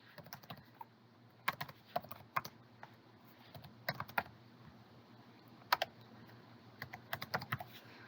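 Library card number being typed on a computer keyboard, with quick bursts of keystrokes in irregular clusters, close and fairly quiet over a low room hum.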